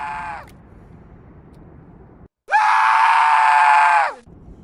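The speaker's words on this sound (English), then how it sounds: "When you put this on here, it sends a light on, but makes a scream." In Astroneer, a tower lets out a loud, drawn-out scream as its light is switched on. A brief cry comes first, then a longer sustained wail lasting about a second and a half.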